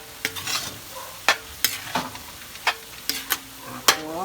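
Ground smoked fish is being stir-fried into palabok sauce in a pan, making a soft sizzle broken by repeated sharp scrapes and clacks of a spatula at uneven intervals, close up with no voices.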